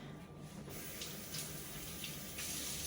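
Running tap water pours over a microwave part being washed in a kitchen sink, a soft steady splashing stream with a few brief louder gushes as the piece shifts under the flow.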